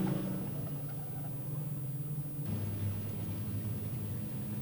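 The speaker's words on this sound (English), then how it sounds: "That'll be the 48 car that's lost the muffler" A production sedan race car, the 48 car, runs without its muffler on a clay speedway at Maryborough, Queensland, its engine a steady distant drone that grows noticeably louder and rougher halfway through.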